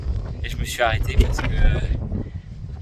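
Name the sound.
strong wind on volcano summit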